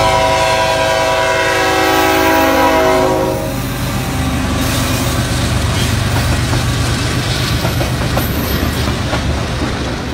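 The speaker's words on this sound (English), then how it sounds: "Lionel's new Walt Disney World 50th Anniversary Express Ride and Run set." A Lionel Walt Disney World 50th Anniversary Express toy train with LionChief and Bluetooth control sounds a loud, sustained horn for a few seconds, then keeps running with a steady clickety-clack of wheels on track.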